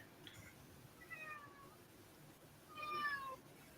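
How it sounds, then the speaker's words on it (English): A cat meows twice from another room, faint and distant against a quiet background, the second call longer and slightly louder. "I see some meowing. I hear some meowing."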